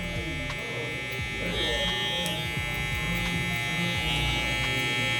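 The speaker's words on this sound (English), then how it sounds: "As I'm working my way lower, I'm honestly releasing some of the pressure on the clipper." An electric hair clipper buzzes steadily and close up while cutting a burst fade, a constant motor drone with small shifts as it moves along the head and the pressure eases, heard alone.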